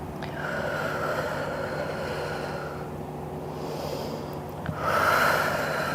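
Slow, steady breathing in and out during a back-stretching exercise for slouching, a long soft exhale followed by a sharper inhale near the end, close and alone.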